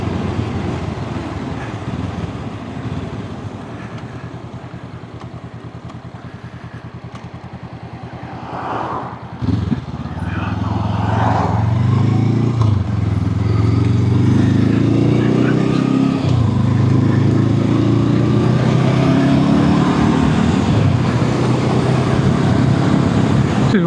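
A motorcycle engine on an open road drones low and steady, idling quietly at first, then rising to a louder sustained roar with shifting pitch as the bike accelerates and changes gear, close by.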